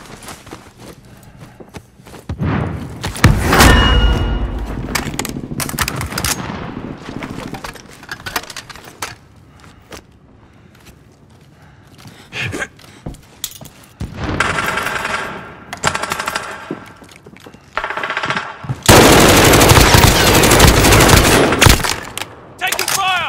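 Bursts of automatic gunfire from the Call of Duty Warzone video game, with heavy sustained volleys around the middle and a long loud barrage near the end, separated by quieter gaps; a voice calls out briefly.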